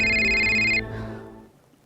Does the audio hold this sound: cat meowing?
no